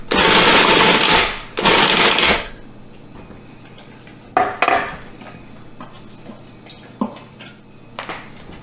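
A food processor pulses wild plums in two short loud bursts of whirring and rattling, followed by scattered clinks and knocks of the bowl and utensils at a quieter level.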